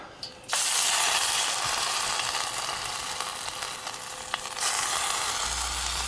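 Spam and potatoes fry in oil inside a metal canteen cup, a loud, close, continuous sizzle with a few stirring scrapes and clicks and no talking.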